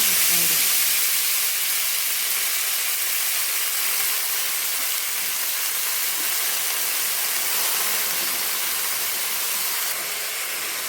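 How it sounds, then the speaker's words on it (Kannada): Chopped fenugreek leaves frying in tempering oil with mustard seeds and turmeric, making a loud, steady hissing sizzle that runs evenly throughout at close range. "ಇವಾಗ ಹುರ್ಕೋತಾ ಇದ್ದೀನಿ ಮೆಂತ್ಯ ಸೊಪ್ಪನ್ನ ಒಗ್ಗರಣೆಯಲ್ಲಿ"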